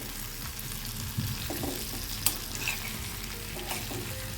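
Bharela karela, bitter gourd stuffed with spiced masala, being stirred and mixed in a pan, with a steady low sizzle and scattered soft scraping knocks from the spoon, close and fairly quiet, no talking.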